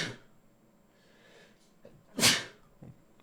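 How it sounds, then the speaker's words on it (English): One loud, close sneeze bursts out sharply after some quiet breathing, followed by a faint sniff. "I had to sneeze there."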